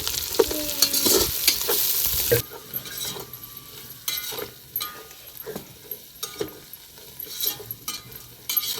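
Mint stirred into frying paneer pulao, a loud sizzle up front giving way to repeated spoon scrapes and clinks against the pan over a softer frying hiss, with no speech.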